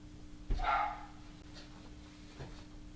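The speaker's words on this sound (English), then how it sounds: "My dogs are barking up there" Dogs bark from somewhere upstairs in a house during a quiet morning yoga session: one short, fairly distant burst of barking, then a fainter bark near the end against a low hum.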